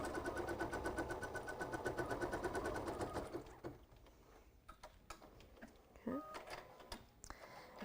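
An embroidery machine stitching an applique placement line, a rapid, even mechanical chatter close by for about three seconds, then stopping, followed by quieter handling noises and a person talking.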